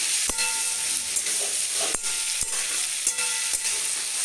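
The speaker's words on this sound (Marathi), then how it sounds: "ह्या भाजीला परतून घ्यायची" Vegetables for a horse gram, moth bean and potato curry are stir-fried in a pan over a constant hiss of oil, with several sharp clacks of the spatula against the pan, close and with no voices.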